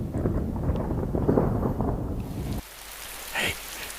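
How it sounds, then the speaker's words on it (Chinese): Steady rain hisses loudly, then drops to a quieter patter, with a faint thump near the end, in an indoor palace scene from a Chinese period drama. "下雨了，"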